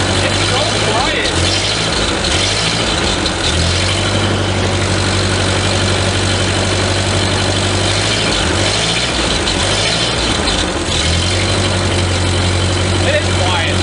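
A 1939 Ford 9N tractor engine idles steadily and close by, a low even rumble holding through the whole stretch, with brief shifts in pitch as the throttle is touched.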